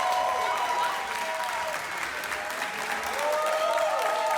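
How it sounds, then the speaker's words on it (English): A crowd applauds people queued for the iPhone XS launch, a sustained, fairly distant wash of clapping lasting the whole stretch with a brief dip midway. "when you have like so many people applauding you for like going to spend a lot of money on gadgets"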